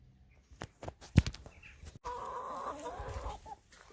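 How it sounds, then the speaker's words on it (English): Hens cluck softly nearby with a few sharp knocks and rustles, then a steadier patch of clucking and murmuring from the flock. "These are my chickens. Now, I like these girlies to have a healthy life, and they seem to make a bloody noise"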